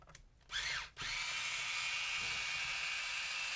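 A power drill backs out long screws from a Traxxas E-Maxx 1/8 differential. A short burst revs up and dips, then a sustained, close whine runs on steadily to the end.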